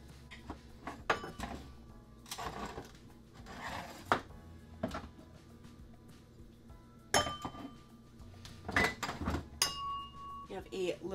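Three glass vases being handled, with repeated bright clinks and knocks scattered through, some sharp and close, amid faint background noise and occasional talk.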